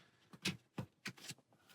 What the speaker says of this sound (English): And discard those and shuffle.